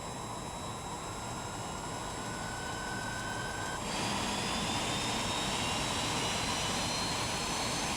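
In Microsoft Flight Simulator 2020, an Aermacchi MB-339 jet engine spools up with a loud, steady whine and roar. A thin rising tone runs beneath it, then the engine noise steps up louder halfway through.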